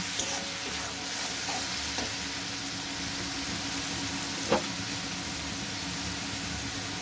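Chili, cumin and coriander powder stirred into paneer frying in a pan, a steady even sizzle with a few faint spoon scrapes and one brief clink midway.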